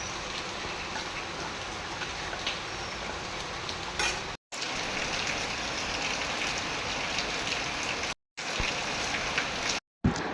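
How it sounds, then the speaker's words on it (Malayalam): Heavy rain falls outside in a steady hissing wash, broken by a few brief silent gaps, with no voices. "പുറത്ത് നല്ല മഴ നടക്കുകയാണ് കേട്ടോ. അതിൻ്റെ ശബ്ദമൊക്കെയാണ് കേൾക്കുന്നത്."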